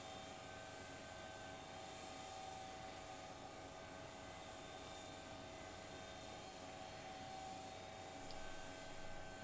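A steady jet-like engine roar holds evenly as an airplane takes off in a Roblox flight simulator game, faint and continuous with a slight swell near the end.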